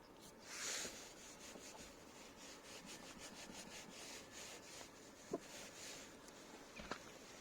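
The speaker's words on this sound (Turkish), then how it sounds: "Üstlerine şimdi biraz zımpara süreceğim." Soft, rhythmic scratching strokes of sandpaper rubbing over touch-up paint, fairly quiet and close, with a couple of light knocks near the end.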